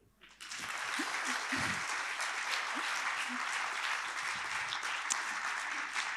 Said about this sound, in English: Maybe an applause now would be okay.